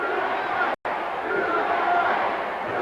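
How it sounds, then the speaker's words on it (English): Wrestling arena crowd at a Dusty Rhodes vs. Ivan Koloff coffin match roaring and chanting USA, a continuous loud, distant wash of voices with a brief dropout partway through. "now we've got a cheer going on"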